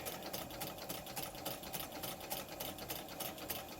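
A White 565 sewing machine runs a medium width zigzag stitch with a fast, even mechanical patter. The sound is faint and steady with no voices.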